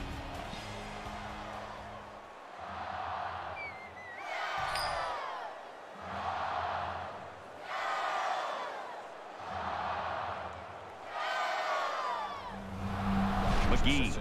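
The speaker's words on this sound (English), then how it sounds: "you can feel the thunder in the crowd as they await the start of this game" Stadium crowd in NCAA Football rumbling before kickoff of an SMU at TCU game, a broad continuous roar that swells in waves with whoops and cheers rising above it.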